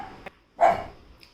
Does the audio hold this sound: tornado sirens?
no